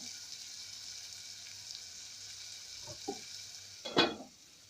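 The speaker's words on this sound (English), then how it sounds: "Then we add in our salt and our masalas. Stir, then cook it for about a minute" Salt and masalas cook in a pan with a faint, even sizzle, then a couple of soft stirring scrapes and one louder clatter of a utensil near the end.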